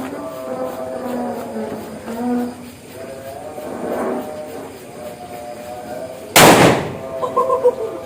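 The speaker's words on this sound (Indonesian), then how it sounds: "ini ada petasan disco. Oke, kita nyalakan. Banter ini." A single loud disco firecracker blast cracks out near the end, followed by brief crackling, over steady background rumble and noise, at night.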